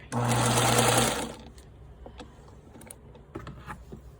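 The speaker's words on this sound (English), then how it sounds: "I'm going to sew off the fabric" A sewing machine stitching quilt fabric for a scrappy snowball quilt block runs in one loud, steady mechanical burst of about a second, then stops, leaving faint clicks and handling noises.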